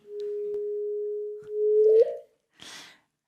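Black hole merger rendered as sound, a sustained sine-like tone rising into a quick upward chirp before stopping, followed by a brief soft noisy burst, isolated with no voices.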